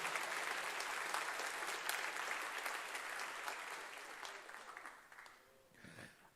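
Congregation applauding during a church sermon, a dense, fairly loud burst of clapping that thins and fades away toward the end, leaving a few scattered claps and near silence.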